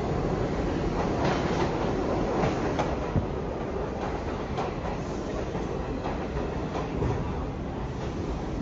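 A New York subway train running, a continuous loud rumble with rhythmic clicking of wheels over rail joints and faint squeals, no talking.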